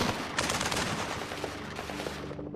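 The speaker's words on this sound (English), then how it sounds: "They exchange more fire." Rapid gunfire exchanged during a police shootout in California, dense overlapping shots in quick bursts at close range, loud and continuous with no speech.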